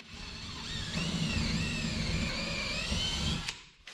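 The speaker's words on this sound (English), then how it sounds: "Finding a stud, and then drilling this little pilot hole." Power drill bores a small pilot hole into a wall stud inside a workshop, a continuous whining buzz held steady for about three seconds before cutting off, close and fairly quiet.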